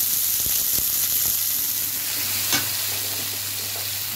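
Potatoes and onions dropped into hot oil in a wok, with five-spice tempering and dried chillies for a prawn and Malabar spinach ghonto, sizzling and frying steadily with a few stirring scrapes, loud and close.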